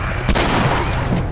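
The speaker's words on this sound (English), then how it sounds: "Maybe I didn't need to actually use that other shot." Gunfire in the video game The Last of Us: a pair of sharp, loud shots bursting out of a dense, continuous game soundscape, with no talk.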